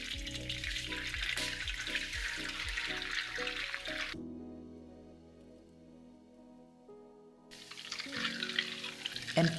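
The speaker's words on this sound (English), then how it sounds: "At boiling stage, the bigger bubbles are popping hard, and it sounds very loud" Butter boiling in a pan while being browned crackles and sizzles loudly with popping bubbles, then the sound suddenly drops to near quiet before the sizzle returns.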